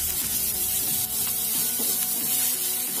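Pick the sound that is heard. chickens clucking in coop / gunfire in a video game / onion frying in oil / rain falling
onion frying in oil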